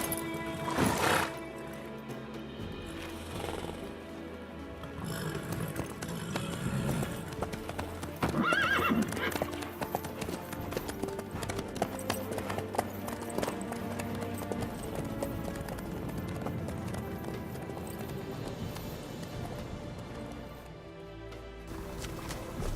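Horse hooves clip-clop steadily in The Witcher 3: Wild Hunt, a continuous trotting rhythm with occasional whinnies, layered under ambient game sound and music.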